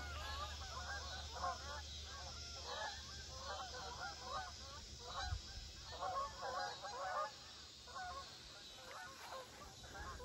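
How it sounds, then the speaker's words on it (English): Geese honk repeatedly as they fly overhead in the Ozark mountains, a steady series of overlapping calls at moderate distance over a low rumbling background, with no talk. "The geese are flying over right now."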